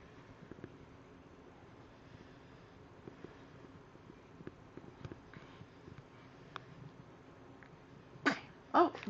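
A person sneezes sharply near the end, two close bursts in quick succession after a quiet stretch with faint background rumble and small clicks.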